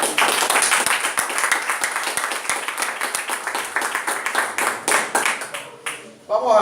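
A church congregation claps during a Spanish-language sermon, a busy run of overlapping hand claps that thins out toward the end, with a voice rising briefly over it.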